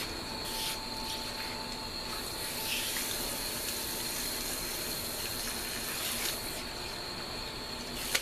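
Steady running water from a shower or tap flows continuously while hair is rinsed with cool water, a broad close hiss with slight surges and no talking.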